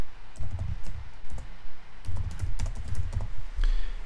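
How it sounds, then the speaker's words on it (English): Quick bursts of typing on a computer keyboard, close and clear, with clusters of key clicks separated by brief pauses and no voices. "Let me just type in something."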